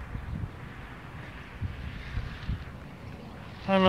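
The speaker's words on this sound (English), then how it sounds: "It's windy out here." Outdoor wind gusts rumble and buffet the microphone in low, uneven surges, with a brief sharper noise at the very end.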